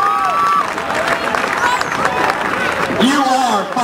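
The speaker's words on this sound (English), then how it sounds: "Give these young ladies a round of applause." A crowd at a high school powder puff football game applauds and cheers, mixed with whoops and loud chatter, with voices talking over the noise throughout.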